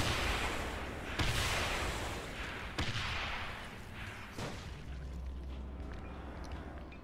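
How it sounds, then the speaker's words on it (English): Airstrikes called in during Dying Light gameplay: several heavy booms land about every second and a half, each rolling out into a long, loud rumble, with no talk. "I'm throwing airstrikes"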